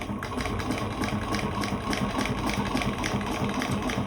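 A sewing machine runs steadily while stitching a shoulder bag, giving a close, continuous, evenly pulsing mechanical hum with no pauses.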